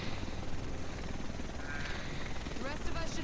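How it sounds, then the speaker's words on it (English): A helicopter in a cutscene from the video game The Division, a continuous loud rotor drone throughout, with game dialogue spoken over it. "The rest of us should be in this chopper."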